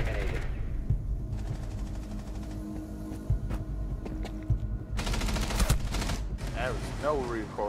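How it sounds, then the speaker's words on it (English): An MPX fires in Rainbow Six Siege, rapid bursts of automatic gunfire that are loud and close, with a heavy stretch near the end and voices talking between the volleys. "No recoil on that gun. It's the MPX."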